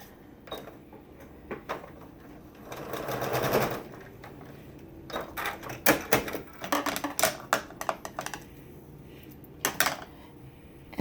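Sewing machine stitching a partial seam on a log cabin quilt block: a few short, uneven runs of rapid mechanical stitching broken by clicks and pauses, fairly quiet and close.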